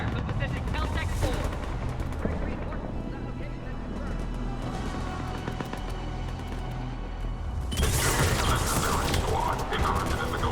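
Rapid enemy gunfire crackles in a Mass Effect 3 combat scene, sustained automatic bursts with heavier blasts toward the end, with game voices talking over the shooting.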